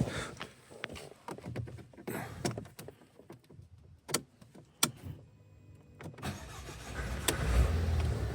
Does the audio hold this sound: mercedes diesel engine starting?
yes